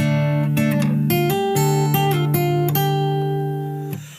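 Fingerstyle acoustic guitar plays the opening bar of a chorus, clear picked notes ringing over sustained bass strings, evenly spaced plucks that fade out at the end, no voice.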